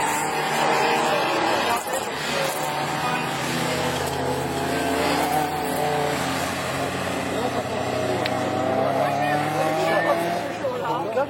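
Rallycross race cars in a Division 4 event at Lessay lap a freshly watered circuit, engines droning steadily and loudly throughout with rising and falling revs, while a voice talks over the racket.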